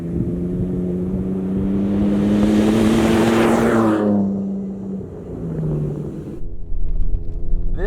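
A 2024 Ford Ranger Raptor truck drives on the sand dunes of North Sand Hill in northern Colorado. The engine drones loud and close, climbing in pitch and then easing off, before a rougher surge near the end.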